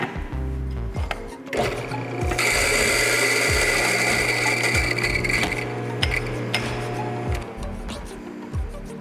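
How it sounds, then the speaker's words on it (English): An electric grinder grinds 25 grams of coffee beans for a Kalita Wave pour-over, a loud steady whirring burst in the middle, set among clattering and knocks before and after, with no talking. "And now I'm gonna grind that up."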